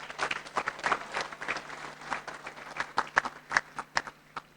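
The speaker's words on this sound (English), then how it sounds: "I would like all of you to make a clap for your parents" An audience at a graduation clapping for their parents: scattered, uneven claps that grow more spaced and sharper toward the end, fairly close and clear, without speech over them.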